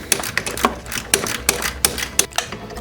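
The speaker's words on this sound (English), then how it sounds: "I'm just tightening my tensioning bolt over here." A wrench tightens the belt tensioning bolt on a Jeep Wrangler engine with a series of sharp, close ratcheting clicks in an uneven rhythm, roughly eight distinct ticks, without any talking.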